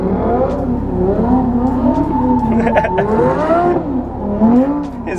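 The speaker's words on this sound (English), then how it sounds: "His car is so loud." A loud car engine drones and revs with wavering pitch, tires squealing in bursts over it throughout, close and sustained.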